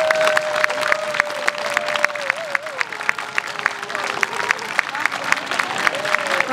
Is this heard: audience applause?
yes